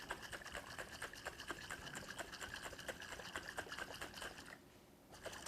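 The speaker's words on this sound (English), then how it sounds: "And then we just shake it on up." Rapid, steady rattling and sloshing as salad dressing is shaken inside a lidded mason jar, a quick continuous rhythm at moderate distance that stops briefly near the end before resuming.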